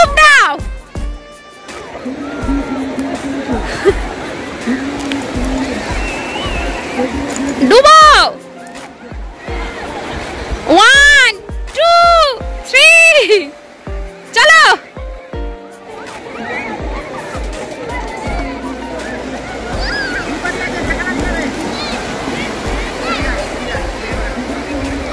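Water sloshes and splashes continuously as people take cold dips during a Ganga Mela holy bath, with a crowd chattering and loud shouted calls rising over the splashing.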